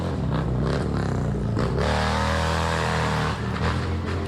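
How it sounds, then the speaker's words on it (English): A motor engine roars past nearby, rising and sustaining loudly with a clattering rumble before easing slightly. "Can you hear the motorcycle?"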